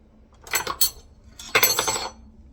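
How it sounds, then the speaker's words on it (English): Glass jars of cucumber salad are lowered into a canner, making two short clusters of clinking glass against metal, fairly close, with quiet gaps between. "And now I'm going to put these into the canner."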